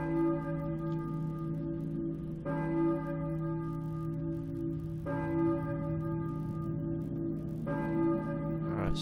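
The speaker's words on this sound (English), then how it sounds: "I hear a church bell, I think, but who's ringing it?" A church bell tolls in the Silent Hill video game, four evenly spaced strikes about two and a half seconds apart, each ringing out with a long humming decay over a low steady drone, fairly quiet and with no voices.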